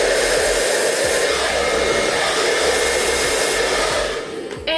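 A hair dryer blows hot air while hair is being blow-dried under tension, a loud, steady whooshing drone that holds almost unbroken for about four seconds, then dips and shifts briefly near the end.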